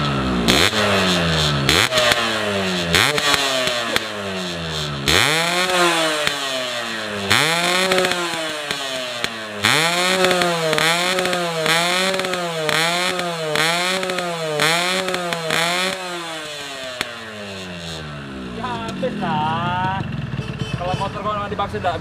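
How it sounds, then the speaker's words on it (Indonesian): A motorcycle engine runs and is revved repeatedly during a tune-up check, loud close rising and falling blips with sharp whining pitch sweeps in a steady rhythm, then a rougher settling idle toward the end. "Boleh saya dengar bunyi mesinnya? Ini mau dicoba dulu nih bunyi apa motor nih?"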